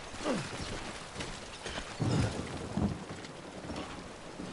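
Rain falls steadily in the video game Death Stranding, with low rumbling bursts of thunder rolling in around the middle of the stretch, no voices.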